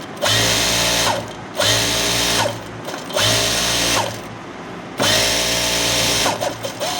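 Sewing machine stitching a princess-cut, boat-neck blouse, whirring in four loud bursts of roughly a second each, separated by short pauses.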